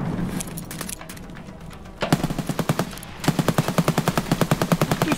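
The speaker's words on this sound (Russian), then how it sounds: "стреляет внутри" Automatic gunfire inside a building in Escape from Tarkov, heard as a few brief bursts followed by a long, even string of rapid shots, fairly close and sharp, with no talk over it.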